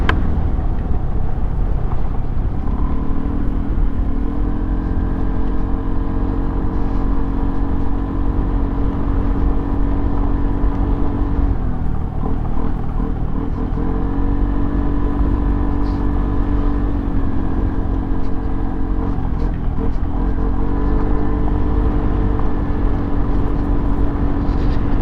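A motorcycle rides over a rough, dusty road with a steady loud engine drone and wind rush, and the pitch dips and rises a few times as the rider changes speed.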